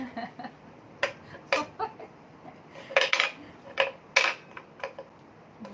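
Bamboo shoot is scraped into long strips, making a string of separate crisp scraping and tapping sounds that come close together and vary in loudness.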